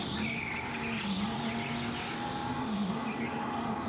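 A race car corners on a track during a championship night heat, its engine a steady droning whine that rises and dips slightly, with a faint tire scrub throughout and no voices.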